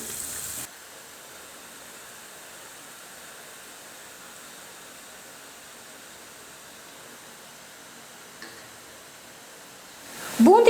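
Boondi batter frying in hot oil for a sweet or kara snack, a steady, even hiss of bubbling that runs almost the whole time before a short clatter at the end.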